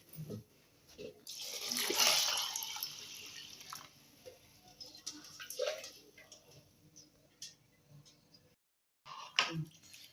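Water poured into a pressure cooker holding rice and dal for bisi bele bath, heard as a soft, brief rush followed by faint drips and light clinks in a quiet kitchen.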